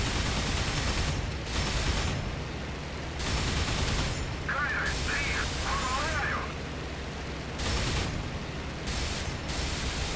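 Yak-1 cannon and machine guns firing in IL-2 Sturmovik over Stalingrad, rapid repeated bursts that start and stop several times over engine drone, with someone talking over them.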